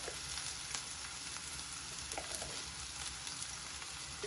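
Ginger garlic paste and turmeric fry in hot oil for a ridge gourd curry, a soft steady sizzle with light scraping clicks as the mixture is stirred.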